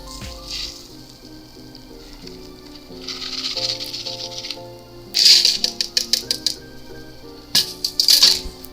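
Sidecar cocktail double strained from a frosty shaker tin, with ice clinking and rattling in close, bright bursts, a soft pouring hiss and scattered sharp taps near the end.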